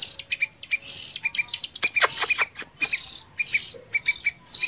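Sooty-headed bulbul chicks chirp in repeated high, sharp bursts with short pauses between them, close and clear over a quiet background and no talk.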